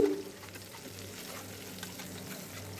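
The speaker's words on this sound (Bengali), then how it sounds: "একটা একটা করে বেসনের মধ্যে ডুবিয়ে তা ডুবো তেলে এভাবে ভিজে নিলাম" Gram-flour-battered prawns deep-fry in oil with a quiet, steady bubbling sizzle after a brief louder splash at the start.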